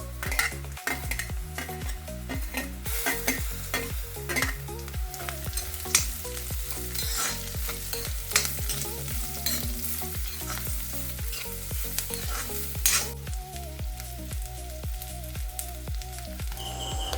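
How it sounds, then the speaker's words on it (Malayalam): Onions and coconut pieces sauté in a pan for a bitter gourd stir-fry, with a steady loud sizzle and rhythmic scrapes of a spoon stirring throughout, no voices. "ചെറിയ ഉള്ളി നന്നായി വാടിക്കിട്ടിയാൽ സവാള ചേർത്ത് വഴറ്റാം."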